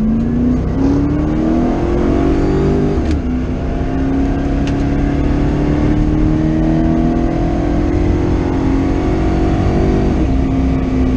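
Loud, continuous engine roar with rising revs and a sustained strained pitch, close by, as a 2V Ford Mustang spins its street tires at high power in a burnout.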